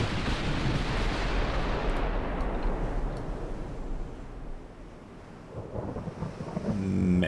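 A heavy naval gun volley from a dreadnought in World of Warships, a broad rumbling boom that rolls on for several seconds, dips, then swells again near the end.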